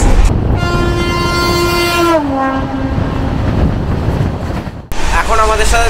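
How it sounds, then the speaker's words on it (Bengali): 15076 Shaktinagar Triveni Express passing, with a long, loud horn blast that drops in pitch as it goes by, a steady clattering rumble of wheels, and a second horn near the end. "উল্টো দিক থেকেই আসছে 15076 শক্তিনগর ত্রিবেণী এক্সপ্রেস"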